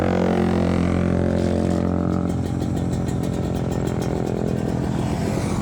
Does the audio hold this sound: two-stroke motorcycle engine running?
yes